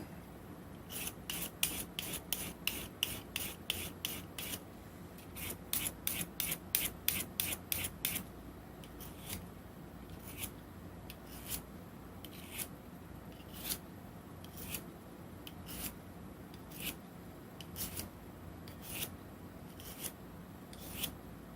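A kitchen knife is drawn across a sharpener in quick rhythmic bursts of rasping strokes, dense at first, then slower, evenly spaced single scrapes, close and clear with no talking.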